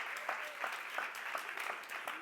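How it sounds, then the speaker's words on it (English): An audience applauds the helpers after a talk with a steady, moderately quiet round of clapping that carries on for a couple of seconds in a room, with no talk over it. "Big round of applause for the helpers."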